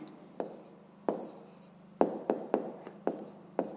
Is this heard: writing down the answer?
yes